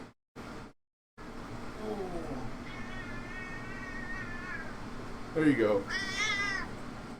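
A pet cat named Monk, picked up and held, lets out several drawn-out, wavering angry meows, close and fairly loud, with someone speaking briefly between the cries.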